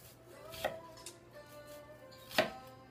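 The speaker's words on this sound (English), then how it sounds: "So you see I'm slicing down." A knife slicing ingredients for a Maldivian tuna curry on a cutting board, with two or three quiet, distinct chops against soft background hum.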